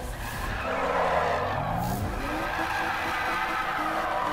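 In Need for Speed (2015), a car's engine drones under a long tire skid. The squeal holds steady while the pitch of the engine rises and falls, loud and close.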